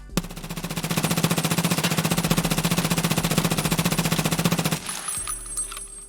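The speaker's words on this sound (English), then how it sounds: "Now, MCX, this is a really strong gun when you're fighting close quarters." MCX rifle in Escape From Tarkov firing one long, loud, fast automatic burst of close, evenly spaced shots for nearly five seconds, then a brief quieter tail of mechanical clatter.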